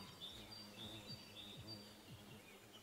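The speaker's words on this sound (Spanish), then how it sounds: "Los pajaritos cantando y todo." Ambient bird song in a Minecraft modpack game, with repeated high chirps and tweets over a quiet, steady background hum.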